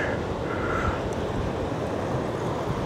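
Wind moves through palm tree fronds at Long Branch Beach, New Jersey, a continuous close rush and rustle with no voices.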